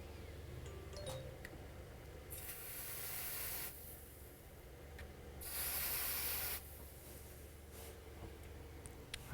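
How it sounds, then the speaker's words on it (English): Freeze spray aimed at a burning MacBook motherboard gives two separate hissing bursts, each about a second and a half long, against a quiet room background. "What happens if I freeze spray it?"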